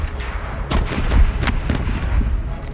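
Several heavy, booming cannon blasts go off in quick succession in a video game battle, over a dense, rumbling battle background.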